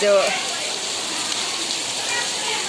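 Heavy rain mixed with hail drums in an even, loud hiss over Bhavnagar rooftops, with a brief voice at the start.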